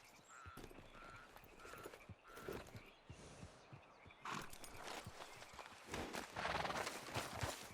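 Hooves clip-clop steadily on the ground from a horse in the Red Dead Redemption 2 video game, a close rhythmic trot with a whinny and ambient game sounds, getting busier toward the end.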